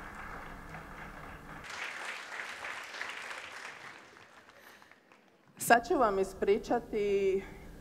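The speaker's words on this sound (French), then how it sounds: "Alors on applaudit les traducteurs." An audience applauds the translators with moderate, scattered clapping that lasts a few seconds and then fades out. A voice speaks clearly afterward.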